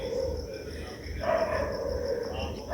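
Dogs barking in a street at night, with several sharp barks at a middling distance over steady insect chirping and a low background hum.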